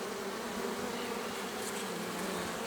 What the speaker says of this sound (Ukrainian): Пасічнику може холодно, а бджола розрізає ляток.